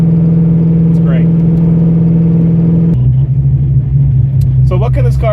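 A 1987 Ford Mustang Fox body cruising steadily along a back highway, a constant mid-pitched engine drone with road rumble, a slight shift in tone partway through, and someone talking over it.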